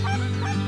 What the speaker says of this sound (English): The geese, the ducks, redwings seem to give it one last hurrah before handing off the lake to the night.